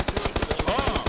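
Rapid automatic gunfire from PUBG, a steady rattle of about a dozen shots per second running through the whole moment, loud and close with no talk over it.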